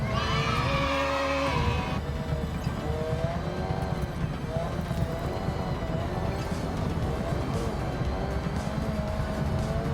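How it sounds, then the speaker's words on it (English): Car drifting through a slow turn in Forza Horizon 6 online, a steady engine drone with tire noise running continuously, mixed with a voice-like tone early on. "That was a nice drift."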